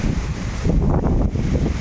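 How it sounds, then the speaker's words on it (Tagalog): Strong typhoon wind roars and buffets the microphone in a constant loud rush, with gusty surges and no speech. "Lakas ng hangin."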